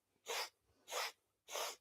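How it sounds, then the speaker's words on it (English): Three short, sharp nasal sniffs come in through the nose in an even rhythm during yoga breathing practice, close and clear against near silence. "We're going to 4 sniffs in through the nose"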